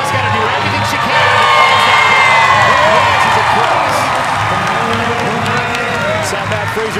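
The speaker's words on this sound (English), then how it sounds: "Fraser cheering on Mal O'Brien" A loud, dense crowd at the CrossFit Games cheers and whoops for athlete Mal O'Brien during Event 7, Echo Press, a steady roar with shouts throughout.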